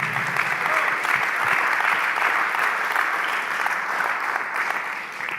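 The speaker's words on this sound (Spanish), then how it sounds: "si le vas a aplaudir, aplaude bien" A church congregation at Voz Church breaks into sustained applause during a sermon, dense steady clapping from many hands, fading slightly at the end.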